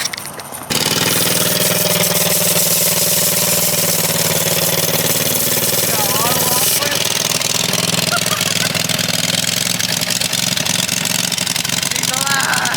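A 1980 Daihatsu kei mini truck engine cranks, catches and settles into a loud, rough, mid-pitched idle that runs on steadily, with a shift in tone partway through and faint voices talking over it.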